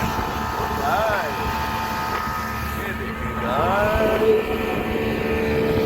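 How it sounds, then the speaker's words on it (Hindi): Motorboat ride on Kachura Lake in the Himalayas, with a steady engine drone and rushing wind and water running throughout, rising slightly toward the end. "कचूरा लेक में हमारा बोट राइड कर रहा है।"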